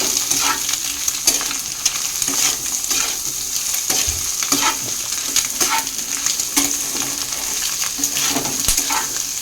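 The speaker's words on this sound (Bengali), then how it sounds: "এবার এর মধ্যে দেবো আলু আর চিকেন, এটাও একসাথে সুন্দর করে ভেজে নেব" Potato and chicken with tomato frying in a pan, a loud continuous sizzle broken by repeated scraping strokes of a spatula, close up and without talk.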